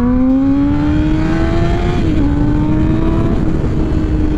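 A Kawasaki Ninja ZX-10R sport motorcycle with an aftermarket exhaust, revving loud and close in a steady high-pitched roar that climbs, dips briefly as a gear changes, then holds, with no talk.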